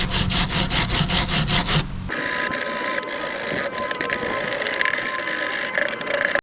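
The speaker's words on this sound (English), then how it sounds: "Next, I'm going to use a wire brush." Fast, rhythmic scraping of a stiff wire brush on rusty Jeep Grand Cherokee wiper arms, close up, changing into a harsher, continuous rasping scrub.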